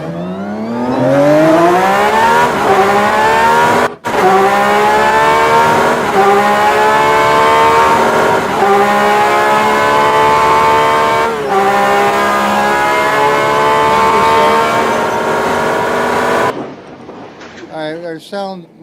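A video-game car with a sound mod launches without turbo, its loud engine revving up in repeated rising pulls through the gears with short dips at each shift, then cutting off near the end.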